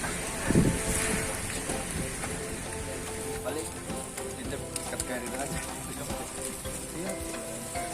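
Steady drizzle falls on the Gede Pangrango trail via Cibodas, a constant soft patter of light rain with people talking over it.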